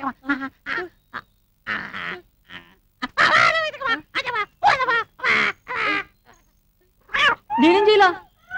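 A cat meows in a Telugu movie scene, with drawn-out, rising and falling cries standing out among bursts of other voice-like sounds.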